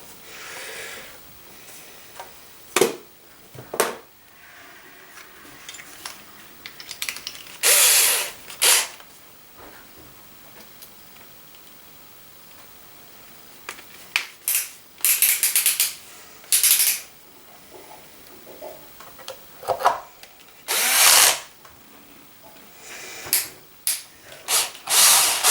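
Screws being driven and tightened during a rebuild of an Arrma Granite RC car: scattered sharp clicks and short ratcheting bursts over a quiet background, close by, no talking.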